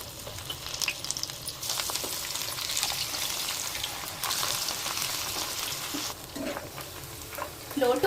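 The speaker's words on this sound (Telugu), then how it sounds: "ఆయిల్ హీట్ ఎక్కిపోయిందండి, ఇప్పుడు ఒక్కొక్కటి వేసేద్దాం." Chicken pakora pieces fry in hot oil, a steady loud sizzle with bursts as each piece goes in and occasional scraping or stirring clatter, no talk.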